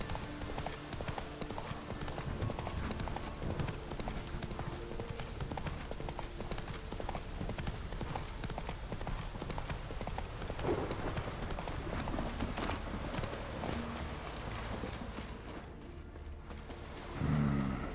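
Horse hooves galloping in the video game The Witcher 3, a steady rapid clip-clop rhythm running continuously at moderate loudness over game ambience, with a brief dip near the end.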